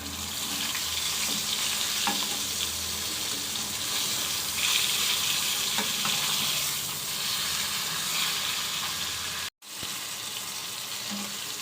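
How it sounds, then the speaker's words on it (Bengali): Fish pieces rubbed with salt and turmeric fry in oil in a pan, making a continuous, even sizzling hiss for the whole stretch, broken only by a momentary dropout near the end. "তো দেখতেই পাচ্ছেন মাছটা ভাজা শুরু করে দিয়েছি আমি"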